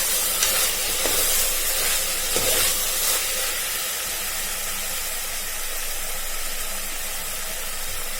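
Chicken pulao with coriander leaves sizzles and hisses steadily in a hot pan as it is stirred, a continuous close frying wash with a few scraping strokes early on, and no talking.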